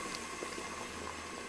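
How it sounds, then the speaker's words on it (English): Beans in a pot brought back to a boil over high heat, giving a soft, continuous bubbling and simmering wash, faint and steady throughout with no talking. "I turn the heat right back up to high to get it to come to a boil like that."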